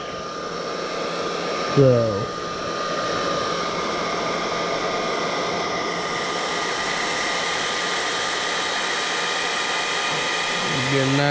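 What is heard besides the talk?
hot air blower heating headlight bezel wrap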